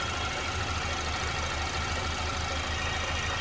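A car engine idles steadily at close range, a low rumbling hum that holds constant with no voices over it.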